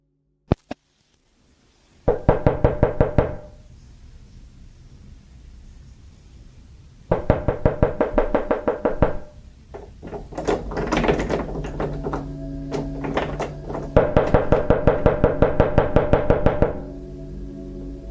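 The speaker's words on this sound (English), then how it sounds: "he heard knocking at his front door" Repeated knocking at a front door, loud and close, coming in several rapid bursts of many raps each, separated by short pauses with some thumping and rattling between them.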